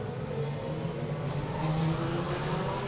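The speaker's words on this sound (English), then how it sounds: "a couple of lovely moments of hearing a car not lifting through Lisboa" A Formula 3 race car at the Macau Grand Prix carries full throttle through the Lisboa corner, its engine a sustained, steady high-pitched drone with no lift, heard from onboard for a few seconds.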